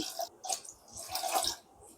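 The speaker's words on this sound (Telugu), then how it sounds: "అదేవిధంగా ఈ పాలల్లో ఒక 2 గ్లాసుల వాటర్ కూడా వేసుకోవాలి." Water poured from a glass into milk in a cooking pot for jaggery payasam, a splashy liquid pour with a few distinct bursts over about two seconds, close and moderately loud with no talking.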